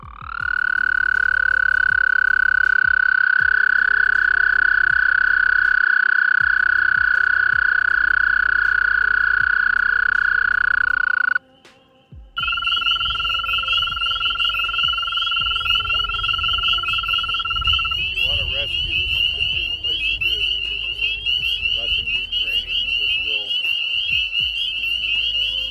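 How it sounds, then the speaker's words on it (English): An American toad gives long, steady high trills outdoors, one sustained call after another, loud and close, joined by other overlapping toad trills in the second half. "This is absolutely the most beautiful American toad I've ever seen in my life."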